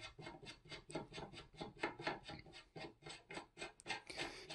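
A rifle muzzle brake being threaded onto the barrel by hand gives a close, quiet, steady rasping scrape of metal threads, repeating in short regular strokes with no talking.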